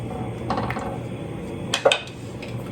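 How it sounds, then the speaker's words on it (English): Lid set onto a skillet of simmering lasagna, a few metallic clanks and a sharp clatter near the end over a low background bubbling. "put the cover on"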